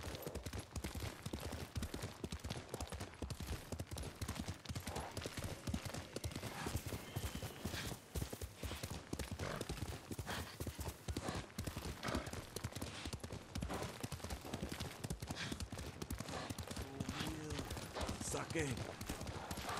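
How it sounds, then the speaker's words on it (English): Horse hooves clip-clop steadily in the Ghost of Tsushima video game, a quiet continuous trotting rhythm under occasional speech, with a whinny and bursts of distant gunfire-like cracks mixed in. "You're a good horse, Nobu."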